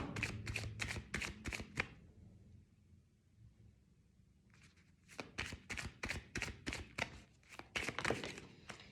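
A deck of chakra cards being shuffled close by, two bursts of rapid riffling slaps separated by a quiet pause of about three seconds.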